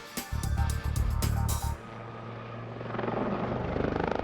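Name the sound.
Lynx helicopter flying a loop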